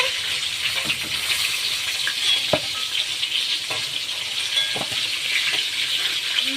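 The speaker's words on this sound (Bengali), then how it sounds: "নুন আর এই যে হলুদ দিয়ে আমি একটু লাল লাল করে ভেজে নেব পটলটাকে" Pointed gourd (potol) pieces frying in oil with salt and turmeric, a continuous close sizzle with occasional sharp crackles and spatula stirring clicks, no talking.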